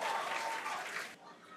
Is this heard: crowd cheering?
yes